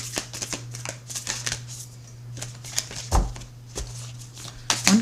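Oracle cards are shuffled in quick bursts of riffling and flicking, close and crisp, with small taps and pauses between shuffles and no talking.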